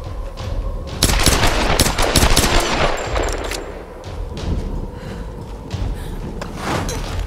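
Pistol shots in Tomb Raider 2013, a rapid cluster of loud cracks and thuds packed together in a burst, then scattered shots amid shuffling and combat noise.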